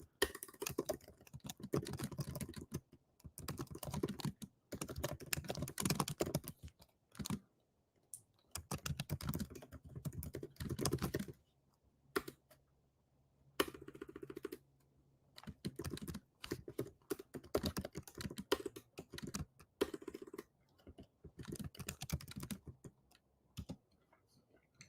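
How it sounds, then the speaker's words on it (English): Steady typing on a computer keyboard, rapid clicking keystrokes in bursts separated by short pauses, close and clear with no voices. "I'm just going to start typing something."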